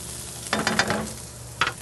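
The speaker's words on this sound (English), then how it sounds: "We'll throw in a little bit of red onion." Red onion and garlic hit a hot pan in short bursts of sizzle and stirring, two louder spurts separated by a quieter moment, close and with no talk.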